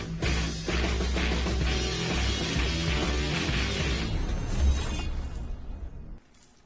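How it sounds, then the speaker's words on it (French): A truck blows up during a stunt show at a 24-hour truck racing event, a loud sustained blast and crashing roar lasting several seconds before cutting off abruptly. "Et après, explosion."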